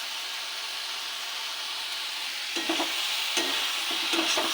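Curry masala for a soya curry sautés in a pan with a constant soft hiss of frying, then rhythmic scraping stirs join in over the second half.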